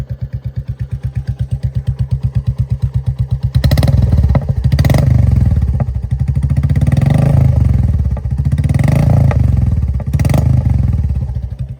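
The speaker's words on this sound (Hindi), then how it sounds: "मैंने भाई एग्जॉस्ट नया लगाया है, एग्जॉस्ट का साउंड सुनो। ये देखो इसका नॉर्मल साउंड।" A Royal Enfield Battalion motorcycle with an aftermarket exhaust idles close by with a steady, thumping exhaust beat, growing louder and rougher after a few seconds with occasional blips, no voices.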